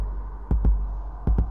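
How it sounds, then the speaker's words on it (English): A deep, muffled ghost heartbeat in the Fortnite Fortophobia game throbs twice in quick lub-dub pairs, low and close over a quiet hum, with no talk. "Oh, just the ghost's heartbeat."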